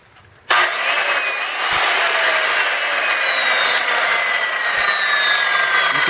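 A Sawzall reciprocating saw switches on abruptly and runs at full speed, a loud, steady buzzing whine with a faint low hum beneath, continuing without pause and with no talking.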